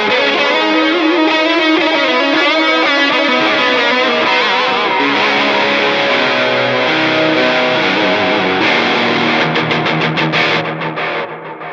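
An electric guitar runs through Flamma effects pedals in a POD GO FX loop placed before the cabinet, giving loud, continuous distorted chords with chorus and delay shimmer before a few choppy strums trail off.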